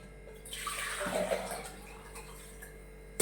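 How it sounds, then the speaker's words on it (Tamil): Water poured into a cooking pot while making egg curry, a soft splashing pour lasting about a second, faint and close, with no talking. "இப்போ இதை நான் ஒரு பாத்திரத்தில் எடுத்து ஊற்றி காமிக்கிறேன்"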